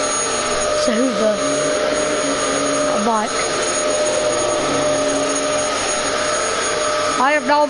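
A vacuum cleaner drones steadily and loudly throughout, a constant whine with a high tonal hum, while a person speaks in short bursts over it.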